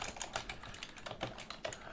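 Typing on a computer keyboard indoors, a quick irregular run of light key clicks and taps, close and fairly quiet, with no voices.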